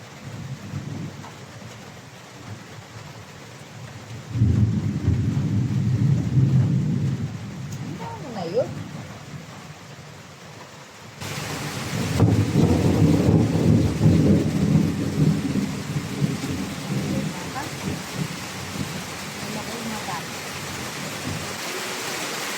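Heavy rainstorm with thunder: two long, deep rumbles of thunder roll in over a steady wash of rain, the second one louder and more sustained, with light voices faintly underneath.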